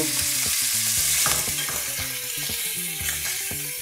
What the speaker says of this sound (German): So, das Öl ist heiß genug. Gebe ich meine Leber hinzu.